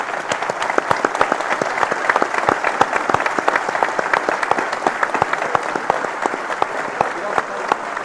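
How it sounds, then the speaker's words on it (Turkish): A live audience claps steadily at a Turkish public arena talk show, dense sustained applause with sharp individual claps, loud and close throughout. "Alkışlayalım."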